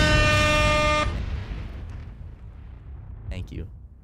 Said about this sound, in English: Ryan, throw some air horns in.